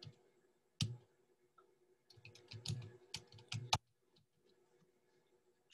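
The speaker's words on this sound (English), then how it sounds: "let's type in here again" Computer keyboard typing comes in quiet bursts of sharp key clicks, a few isolated taps and then a quick cluster, in an otherwise silent room.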